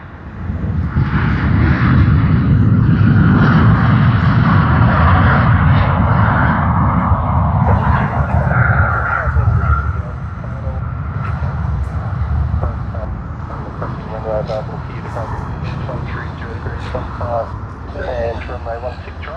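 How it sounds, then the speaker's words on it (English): An Air New Zealand Boeing 787-9 bound for Auckland takes off from runway 16L at Sydney Airport, its jet roar loud and broad for about ten seconds before easing to a softer fading rumble, with someone talking over it. "We do see Air New Zealand Boeing 787-9 to Auckland, and of course it is going to go to runway 16L"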